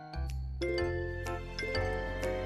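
A bright subscribe-bell sound effect rings out in a quick run of clear metallic dings and tinkling chimes, loud and close, with no voices over it.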